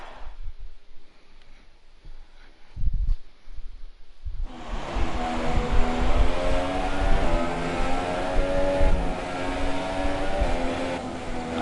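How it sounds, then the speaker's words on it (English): Sauber Formula 1 car engine in the F1 2017 racing game on a two-lap run at the Mexican Grand Prix, a loud, steady high-pitched whine with shifting harmonics that cuts in sharply after a quiet opening with faint thumps. "Hear the engine much nicer and crisper and louder."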